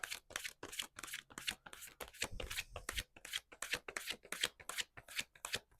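Tarot cards are shuffled by hand close up during a card reading, a quick series of soft papery riffles and slaps in rapid bursts, quiet and alone with no talking.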